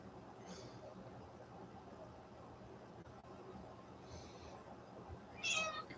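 Tuxedo cats meowing indoors in a room whose blinds they have damaged, with a couple of faint calls early on and a louder, closer meow near the end over steady background noise.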